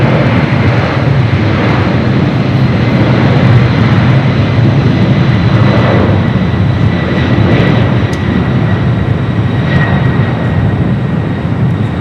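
Alaska Airlines jet bound for Anchorage rolling for takeoff on runway 25 at LAX, a loud, steady engine roar that holds throughout with no voices over it.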